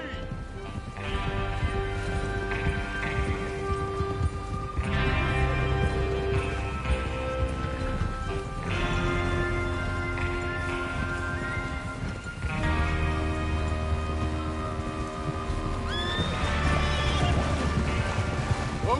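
Horses galloping in the video game Red Dead Redemption 2, rhythmic hoofbeats running under loud orchestral game music.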